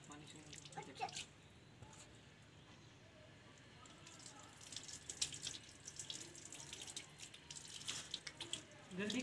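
Tap water runs steadily into a sink while a child's face is washed, a continuous splashing hiss with a few brighter splashes, heard beneath ongoing talk.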